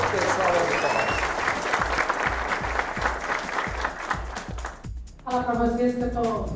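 Loud, dense applause from an event audience fills most of the stretch, broad and continuous, then breaks off near the end as a voice begins speaking.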